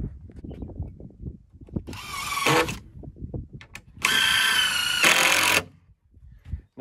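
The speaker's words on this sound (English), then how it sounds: "Let's go ahead and get some screws in this and get it set." A power drill driving screws into wood while a chicken coop is built, with two bursts of steady whining motor, the second longer, between quieter knocks and handling noise.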